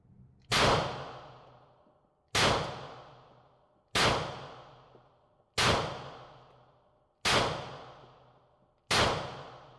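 Six sharp, loud shots from a Glock 19X pistol, fired one at a time in an even rhythm about every one and a half seconds. Each crack rings out and fades before the next.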